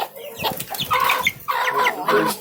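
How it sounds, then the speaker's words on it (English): Roosters and hens clucking and crowing close by in a farmyard, a rapid run of loud, overlapping squawks and clucks with no talking. "Roosters are giving her a hard time."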